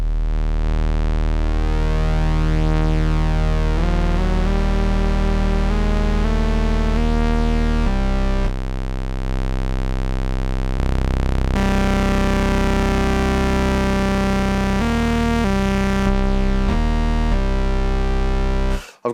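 Synth bass from a Moog Sub 37 and a Prophet 6 plays sustained, buzzy low notes with shifting tones and harmonics, loud and up front, with short gaps between phrases and no talking.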